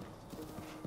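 A horse's hooves clip-clopping at a quick, even gait while riding in the video game Zelda: Breath of the Wild, close and moderately quiet, with faint game sounds underneath.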